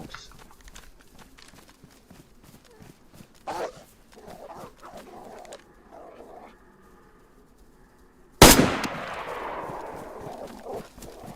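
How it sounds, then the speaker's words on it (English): Dogs barking and attacking in the DayZ video game, scattered barks and growls with running footsteps, then a sharp loud burst followed by a lingering rough noise tail. "Fucking dogs."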